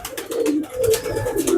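Pigeons coo loudly and close up in a few rolling, throaty phrases, with no talk over them.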